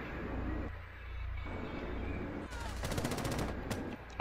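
Gunfire in a Rainbow Six Siege match: rapid bursts of automatic shots crackle over a steady game-ambience drone, with a dense volley in the final second and a half, and no talking.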